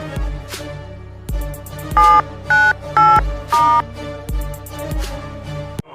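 A telephone being dialed: a run of distinct keypad tones, each a short steady double-pitch beep, loud and close, with clicks between them and no talking.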